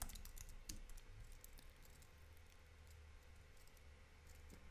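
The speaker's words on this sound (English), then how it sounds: "So yeah, let's write something like, hi Shrek." Quiet, steady typing on a computer keyboard as a short chat message is entered, with soft, rapid key taps against a faint background hum and no talking.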